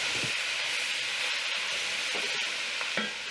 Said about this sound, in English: I want to get these sauteed in this beef juice and bacon grease